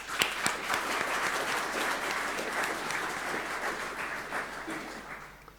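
Audience applause at an aviation seminar in Estonia, a steady dense wash of many hands clapping from a room crowd, sustained at moderate level with no talk over it.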